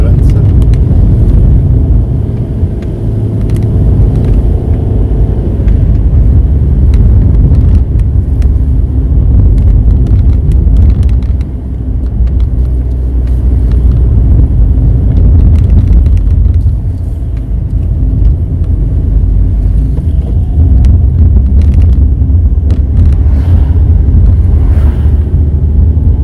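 Car engine droning steadily while climbing a long uphill road toward Pico do Arieiro on Madeira, a loud, continuous low hum with wind buffeting the microphone, and voices talking over it at times.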